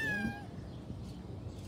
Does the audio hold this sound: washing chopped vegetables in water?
no